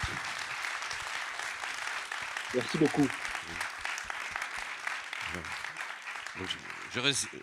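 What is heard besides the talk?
audience applause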